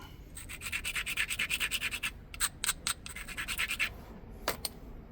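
Glass Buttes obsidian point having its edge ground by hand during flintknapping; a close, rapid series of rhythmic gritty scrapes, then a few separate strokes after a short pause, with no talking.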